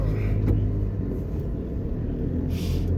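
Road traffic on Washington Boulevard in Kingston, Jamaica, heard from inside a moving car as a steady low engine rumble, with passing vehicles whooshing by.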